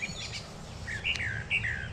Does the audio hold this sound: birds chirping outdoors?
yes